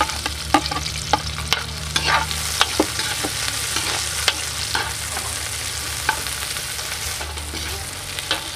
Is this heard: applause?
no